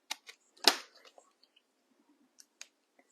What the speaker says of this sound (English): I'm going to use my scissors